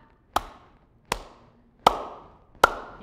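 Cupped-hand clapping in the Zimbabwean kuombera style, four hollow, popping claps at a slow, even pace, close and clear with nothing else heard.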